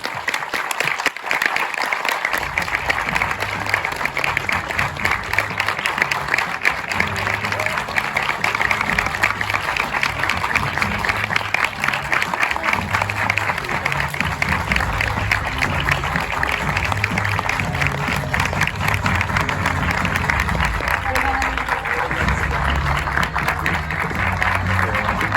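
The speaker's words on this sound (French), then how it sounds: "sous vos applaudissements" Sustained applause from a premiere crowd at the Pathé Palace cinema welcoming director Bong Joon-ho, loud dense clapping that starts abruptly and carries on evenly, with faint crowd murmur beneath.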